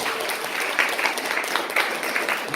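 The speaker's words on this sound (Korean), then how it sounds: "우리 박수 한번 좀 쳐주세요." A church congregation claps for a visiting family during a worship service, a dense, even wash of applause sustained throughout.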